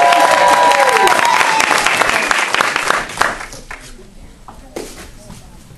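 Large indoor audience at a school Destination Imagination competition bursts into loud applause and cheering for the team managers, dense clapping that fades after a few seconds into scattered claps and crowd murmur.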